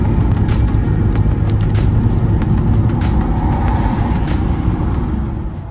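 A car cruising on the Sea to Sky Highway between Vancouver and Whistler, heard from inside as a loud, steady road and engine roar with rushing wind that eases slightly at the end.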